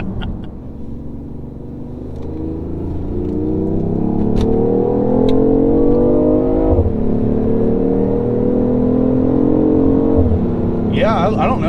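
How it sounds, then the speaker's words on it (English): A BMW i8 accelerates hard, its engine droning loud and close and climbing in pitch, then dropping sharply at two distinct gear shifts before rising again. "I think this actually feels like it gets to speed and shifts smoother than the C8 does."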